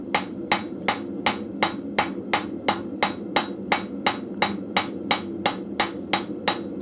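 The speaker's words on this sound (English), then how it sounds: "I'm basically trying to hit the same spot on my anvil as close as possible and moving the steel into position" Rhythmic hammer blows on hot steel and a chisel at a blacksmith's anvil in a forge, about twenty sharp, ringing metallic strikes at a steady even pace, close and loud over a low continuous background rumble, no voices.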